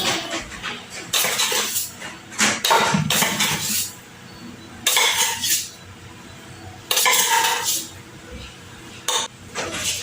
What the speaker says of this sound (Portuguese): Vou botar 5 colheres de sopa de Nescau.